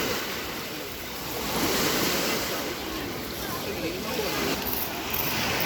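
Surf rolls in and out on a crowded pebble beach in Yalta by the sea, a dense continuous hiss of breaking waves that swells and eases, with a faint wash of wind over it.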